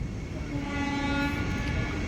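A train runs along railway tracks at Sirhind, with a steady low rumble of wheels and sustained horn-like tones held continuously and loud for the whole stretch.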